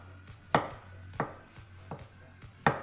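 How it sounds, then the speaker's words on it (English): A knife chops through mushrooms on a board, four sharp, evenly spaced cuts at roughly half-second intervals, close and fairly quiet with no talking. "So I am going to be chopping some fine mushrooms and then also some thicker, chunky mushrooms."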